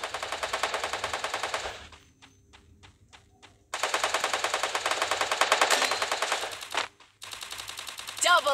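Bursts of rapid automatic gunfire from the Free Fire video game, loud and sustained with a short gap of scattered single shots in between and another burst at the end.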